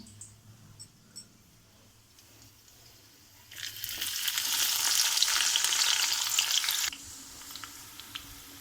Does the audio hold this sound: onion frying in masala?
yes